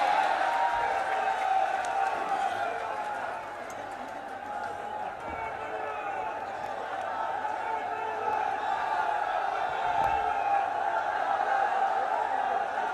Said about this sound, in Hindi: तालियां बजा करके स्वागत कीजिए।